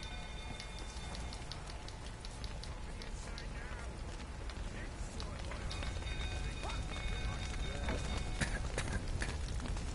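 Hooves clop and thud in an uneven rhythm over a constant rumbling backdrop like rain and crackling, with occasional voices mixed in, from horses in the video game The Witcher 3: Wild Hunt.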